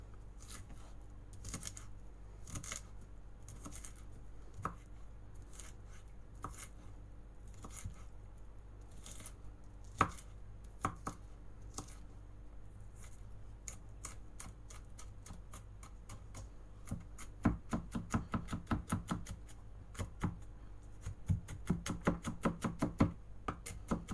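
Garlic cloves are chopped on a board with a knife in a run of quick, close taps, sparse at first and then speeding into a dense, faster flurry toward the end, with no talking.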